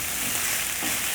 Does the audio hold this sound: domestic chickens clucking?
no